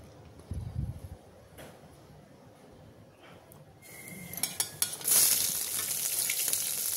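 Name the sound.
bay leaf, cinnamon, cloves, cardamom frying in ghee and oil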